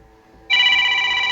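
A phone starts ringing abruptly after a short quiet moment, a loud steady electronic ring continuing to the end.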